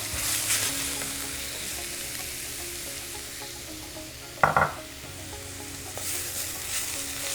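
Chayote stir-frying with grated coconut in a pan: a steady close sizzle broken by one sharp spatula scrape about midway, with no voices.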